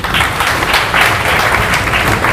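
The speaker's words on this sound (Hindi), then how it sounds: "हाथ ऊपर कर लो, जोरदार तालियां बजा लो" Students in a physics class clap loudly and continuously for a couple of seconds, a dense, close burst of applause with no talking over it.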